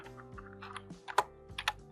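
Typing on a computer keyboard, a run of light, irregular key clicks over about two seconds, close and fairly quiet, with no talk.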